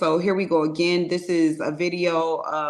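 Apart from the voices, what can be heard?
No everyday noise stands out behind the speech.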